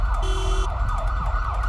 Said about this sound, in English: We drive lights and sirens to these high-risk overdoses